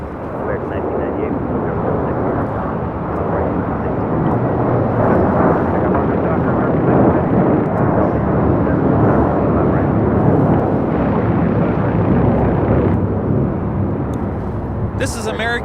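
An airliner takes off at LAX, a loud, continuous jet roar building and peaking near the middle before easing slightly, heard alone without voices.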